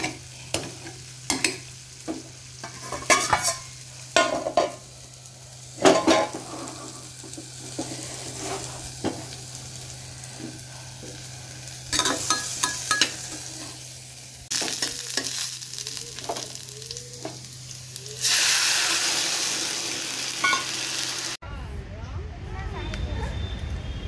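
Malabar spinach (pui shak) cooks in a pot, with sizzling and frying and intermittent stirring knocks and scrapes, close by, under occasional talk and other household noises.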